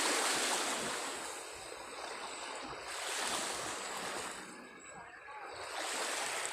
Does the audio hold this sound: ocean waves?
yes